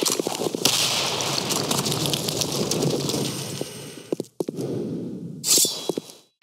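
A grenade goes off in a team-based shooter video game: a burst of sharp crackling blasts fades, and then a few isolated pops and a short hissing burst follow.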